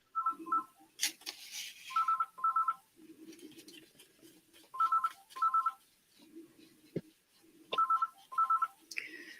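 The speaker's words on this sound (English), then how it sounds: "That somebody just ringing and then putting the phone down." A telephone rings in repeated double bursts at regular intervals before the caller hangs up, moderately loud against a quiet room with faint incidental rustles between rings.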